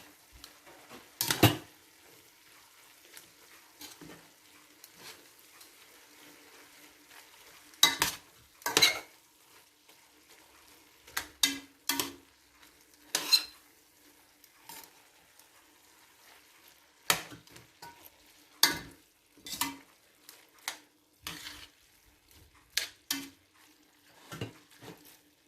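A utensil stirs spaghetti stir fry in a pan, making scattered scrapes and clinks against the metal over a quiet hiss, in irregular bursts with pauses between them.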